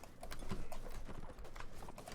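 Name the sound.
horses galloping in video game Mount & Blade Warband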